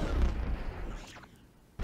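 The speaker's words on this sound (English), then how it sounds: "60mm cannon operational." Batmobile's 60mm cannon in Batman Arkham Knight: a heavy low boom opens, rolling off into a fading rumble, then a second sharp blast hits abruptly at the very end.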